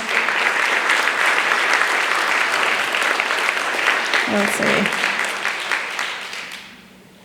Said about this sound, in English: give a huge round of applause to our educational partners